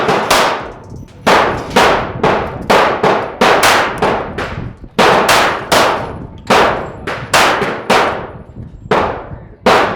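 Repeated loud sharp cracks from a BinTac semi-auto big bore airgun firing target rounds, a fast irregular string of about fifteen close shots, each decaying quickly, no talking.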